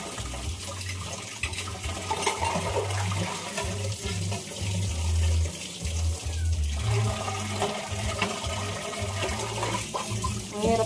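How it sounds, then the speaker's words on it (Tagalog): A tap runs hard into a sink while plates are washed, a steady close splashing and gushing of water that surges and dips for several seconds with clinks over it. "Lakas ng tubig dito"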